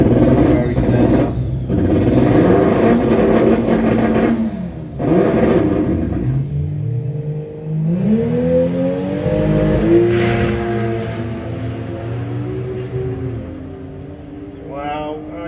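A drag racing car launches and accelerates hard down the strip at Santa Pod, a loud engine roar with rising revs and gear changes that fades into the distance, with commentary over it.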